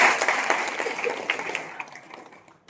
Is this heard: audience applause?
yes